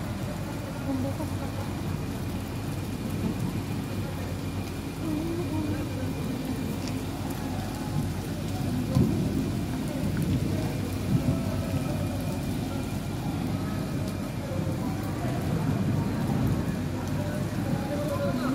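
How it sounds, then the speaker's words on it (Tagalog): Heavy rain during a thunderstorm and flooding in Dubai, a constant loud wash of rainfall with low rumbling underneath and occasional passing traffic, continuous throughout. "Kumikidlat pa. Lumakas na naman yung ulan."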